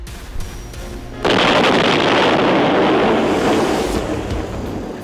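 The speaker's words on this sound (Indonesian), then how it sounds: "Amerika mengetes bom hidrogen kedua di Bikini Atoll, yang dikenal dengan Operasi Castle Bravo" The 15-megaton Castle Bravo hydrogen bomb test explosion at Bikini Atoll: after a quiet second, a sudden loud, wind-like roar sets in and holds as a dense, sustained rumble that eases slightly toward the end, with no voices.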